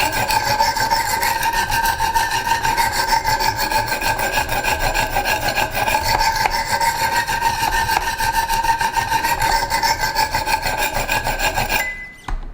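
A Strider SMF knife blade is sharpened on a Wicked Edge Commercial sharpener, with steady, close rasping strokes of the stones running continuously for about twelve seconds before stopping abruptly; no voices.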